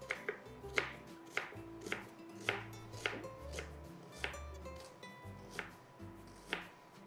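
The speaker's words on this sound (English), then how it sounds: "Now cut up your onions into rings." A knife chopping onions into rings on a board, about ten separate cuts at an uneven, unhurried pace, each one close and clear with quiet gaps between.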